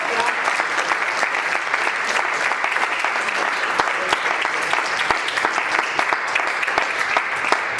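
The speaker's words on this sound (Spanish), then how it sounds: "¿Por qué no da un aplauso al Señor?" A church congregation applauds during a Spanish-language sermon, a dense, steady wash of clapping from many hands that fills the whole stretch at an even level without letting up.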